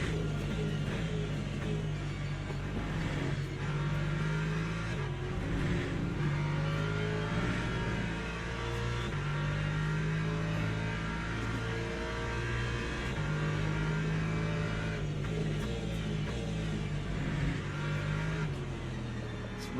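Race car engines in the Le Mans Ultimate racing game, a continuous droning engine note with rising and falling revs and gear shifts, steady and close throughout with no voices.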